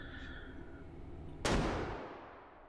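A single sharp gunshot from a scoped gun in the VR video game Hot Dogs, Horseshoes & Hand Grenades, loud and close, with a decaying echo following it and a quiet hum beforehand.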